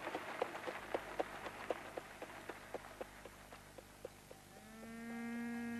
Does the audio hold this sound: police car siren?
no